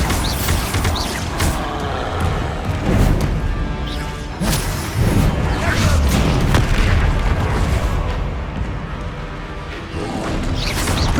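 A Bombarda spell explosion in the Hogwarts Legacy game, among repeated loud booms, crashes and whooshes of a battle that carry on throughout with no talking.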